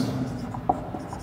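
Pen or chalk scratching across a board or paper as a next point is written during a biology class lecture, brief soft strokes and a single sharper tap, heard close and alone.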